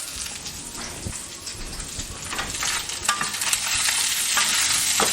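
Pork sausage links fry in a pan, giving a loud, steady crackling sizzle that holds throughout, close up, with no talking.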